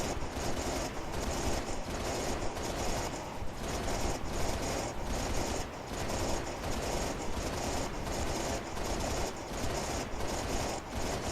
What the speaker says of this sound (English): right now I'm just firing at his fire